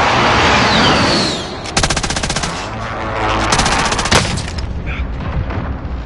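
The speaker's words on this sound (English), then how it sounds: "Sentry turret ready to fire." In the video game Warzone, a sentry turret fires rapid automatic bursts with loud, close, rattling shots, broken by short pauses and a heavy boom amid game noise.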